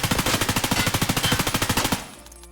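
Rapid full-auto bursts from a modded M4 rifle in Escape From Tarkov, loud steady rounds in a tight rhythm for about two seconds, then cutting off into a short ringing tail.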